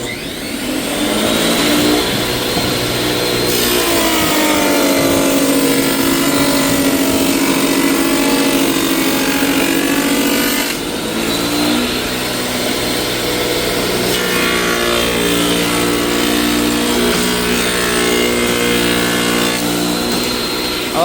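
A power tool runs steadily through cabinet side panels in a kitchen remodel, cutting quarter-inch dados with a loud, continuous whining drone that dips briefly midway as a second pass begins, with no talking.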